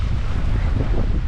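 Steady wind rushes over the microphone at Keweenaw Bay while waves wash and splash water up onto the icy shore in a constant, loud roar.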